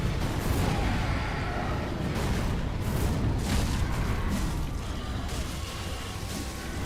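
A boss-fight explosion in Dark Souls 3 rumbles as a sustained, dense low roar that stays loud and steady for several seconds, with rapid crackling bursts layered on top and no voices.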